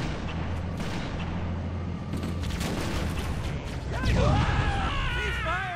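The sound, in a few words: weapons firing and explosion in Halo: Combat Evolved video game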